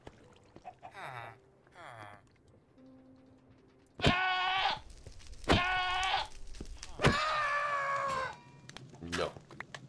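Goats bleat in the FTB Skies Expert Minecraft modpack, three loud wavering bleats at steady intervals, with softer bleats and light game noises before them.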